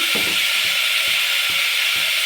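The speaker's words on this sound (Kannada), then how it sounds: "ಫ್ರೈ ಆಗ್ತಾ ಇದೆ." Dosa seasoning frying in a pan, a steady bright sizzle throughout with soft periodic knocks of stirring underneath.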